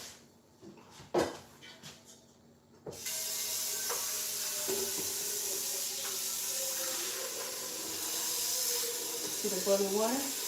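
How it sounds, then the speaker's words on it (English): Water in a pot on a stove comes up to a boil, a steady broad hiss and bubbling that starts abruptly after a few quiet clicks and continues at a moderate level, with a voice speaking faintly. "See the boiling water?"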